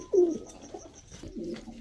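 A pair of Indian highflyer pigeons coos at close range, a few soft low throaty calls in a short burst with faint background hiss.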